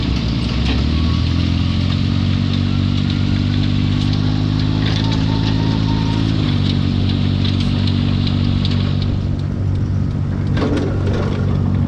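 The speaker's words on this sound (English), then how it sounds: "You basically get to go on a motorcycle and you get to tour their cacao, coffee farm, and tobacco farms as well" A motorcycle engine runs close by on a farm tour through cacao, coffee and tobacco fields in Punta Cana, a loud steady chugging that rises briefly in revs and then settles back.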